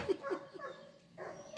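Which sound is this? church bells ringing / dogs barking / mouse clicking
dogs barking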